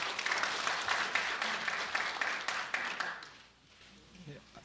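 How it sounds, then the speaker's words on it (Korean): Audience applause at a Korean equestrian industry presentation, a steady wash of clapping from a crowd for about three seconds, then fading out quickly into a quieter room. "큰 박수로 환영해 주시기 바랍니다"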